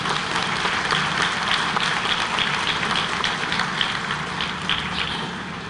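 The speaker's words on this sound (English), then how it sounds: "Let us give all our graduates a round of applause." Sustained, dense applause from the audience at a teachers' college graduation ceremony honouring graduates, steady and moderately loud throughout the short clip with no speech over it.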